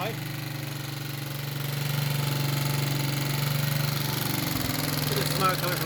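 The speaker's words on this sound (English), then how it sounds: "Still be idling a bit high." A Suzuki motorcycle engine idles a bit high and steady, giving off some smoke, a close continuous mechanical thrum that swells slightly partway through while someone speaks over it.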